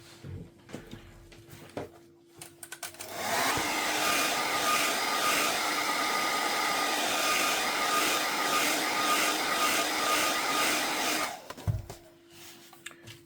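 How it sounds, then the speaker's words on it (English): A hair dryer whirs steadily at close range for about eight seconds, starting and stopping abruptly, with small handling knocks before and after, while heating an Acer Chromebook 514 cracked screen for LCD removal. "Right, so get a hairdryer."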